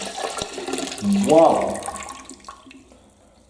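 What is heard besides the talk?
dirty water poured out of Hoover SmartWash carpet cleaner tank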